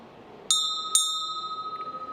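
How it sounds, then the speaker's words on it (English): A timer bell at a startup pitch competition's demo show final rings twice in quick succession, two bright, clear strikes about half a second apart, with the second tone ringing on steadily afterward. "you will hear 2 ringtones when time is up"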